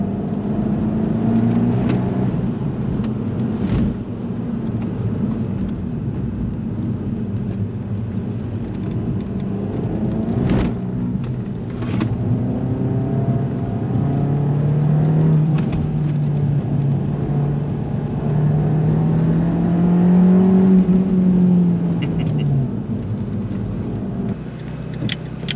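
Abarth 500 EsseEsse with a 1.4 turbo engine accelerating, heard from inside as a steady engine drone whose pitch rises and falls through the gears, with occasional clicks and bumps.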